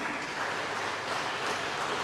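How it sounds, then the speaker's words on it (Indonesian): Applause fills a church gathering for the women's section, a steady wash of many hands clapping, dense and even throughout, with no voices on top. "Tepuk tangan majo hita tu seksi perempuan."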